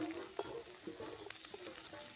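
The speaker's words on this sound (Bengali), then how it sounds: "আমার স্বামী মশলাটা একটু ভালো করে কষিয়ে দিচ্ছে" Onion, garlic and ginger masala paste sizzles steadily in a pan while being stirred for an egg curry, with a constant frying hiss broken by soft scraping strokes.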